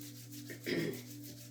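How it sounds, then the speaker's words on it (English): Two hands rubbing together palm to palm, a soft brief dry swish that swells once and fades, quiet and close, alone without talk. "Gently open your eyes, rub your hands together."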